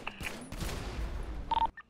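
Video-game gunfire aimed at a tanker truck, a dense burst of rapid shots lasting about a second and ending in a sharp electronic tone.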